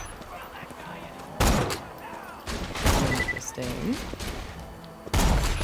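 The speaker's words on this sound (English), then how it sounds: "I'm getting shot at by mans." Bandits fire on the player in the video game Borderlands 2, with several loud bursts of gunfire breaking through continuous game noise while someone speaks briefly.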